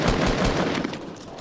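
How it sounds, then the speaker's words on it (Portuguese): Rapid bursts of gunfire from the video game Fortnite, loud and close, firing in quick repeated volleys before trailing off, with no talking over it. "Tem alguém atirando aqui."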